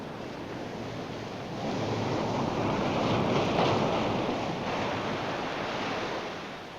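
Ocean waves roll in on a dark beach at night as a steady, broad rush of surf. It swells louder toward the middle and then eases off, with wind mixed in and no voices.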